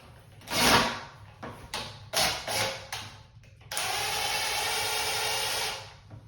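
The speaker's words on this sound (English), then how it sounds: "It's actually quicker and easier if you go ahead and use a drill." A power drill driving the floor bolts while replacing a toilet: a few knocks and handling clicks, then a sustained close whirring run of the drill for over two seconds before it stops.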